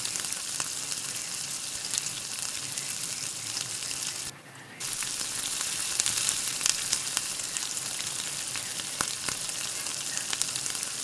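Bread gulab jamun balls fry in hot oil with a steady, loud, close sizzle that runs almost unbroken, dipping briefly once partway through, with no voices.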